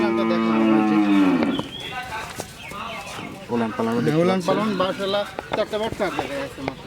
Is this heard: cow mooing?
yes